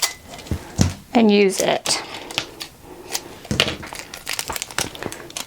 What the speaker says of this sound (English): Then we'll take this piece of tape across the top.